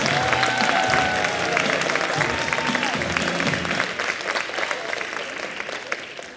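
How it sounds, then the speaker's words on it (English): An audience at a CMT theater show gives the crew and cast a loud, sustained round of clapping with some crowd noise, thinning gradually toward the end. "Let's give a huge round of applause for our CMT"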